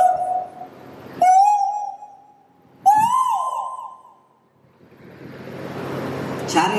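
A mimic imitates a cuckoo's call with his voice in two clear, whistled, rising tones, each starting with a sharp onset and holding steady, followed by a fading breathy hiss.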